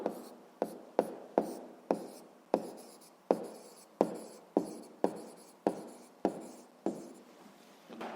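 Handwriting strokes during a sixth-grade math lesson, a steady run of about a dozen short scratchy pen or chalk strokes, close and fairly loud, each starting sharply and fading, with no voices.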